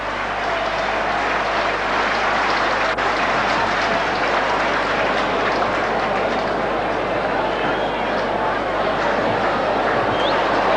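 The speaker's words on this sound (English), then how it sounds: "There's no doubt about the crowd up here. They're very appreciative of their football heroes." Large rugby league crowd at a 1987 Canterbury Bulldogs versus Cronulla Sharks match applauds loudly and continuously, a dense steady wash of clapping filling the whole stretch.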